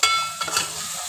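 Onions and bitter gourd pieces frying in a large pot, with a steady sizzle and a few soft stirring scrapes near the start, close and fairly loud with no talking.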